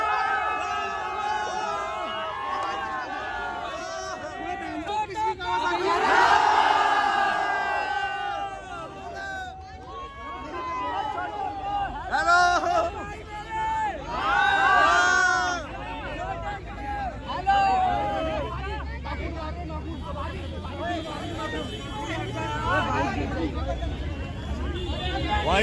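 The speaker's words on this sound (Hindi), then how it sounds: "भाई सही में बहुत ज्यादा भीड़ है" A large crowd gathers at a motorcycle delivery meet-up for a Kawasaki Ninja H2, a loud continuous hubbub of many voices with bursts of cheering and chatter rising and falling throughout.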